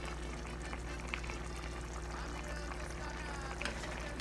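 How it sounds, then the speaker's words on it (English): A thick, chunky sauce with spinach and mushrooms simmers in a pan for a spaghetti squash dinner, giving a steady close bubbling and sizzling hiss with a few soft pops and no voices over it. "Cooking down for 5 more minutes. You can tell it's nice and thick now. Very, very thick and chunky sauce."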